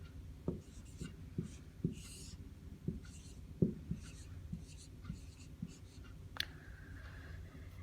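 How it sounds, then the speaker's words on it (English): A math problem written out by hand, pen or pencil scratching in short close strokes with small pauses between marks, quiet and without talk. "I'm going to write the problem out."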